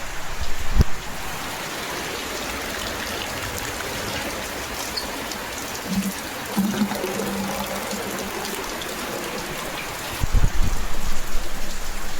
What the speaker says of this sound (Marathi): आम्ही बघा पावसाचं पाणी भरतो